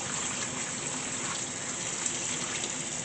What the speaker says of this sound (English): You just want to rinse them basically to get the brine or the salt water off.